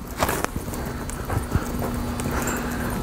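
A horse canters during a colt-starting session, its hooves giving a few soft rhythmic clip-clop beats at middle distance over a steady outdoor background with no one speaking.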